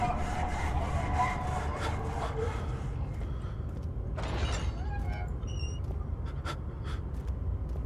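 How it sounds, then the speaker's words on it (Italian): A saw rasps back and forth in the horror game Amnesia: The Dark Descent. Its steady rhythmic strokes are fairly close at first and then fade, while a voice talks over it. "Oh Cristo, rumore di una sega."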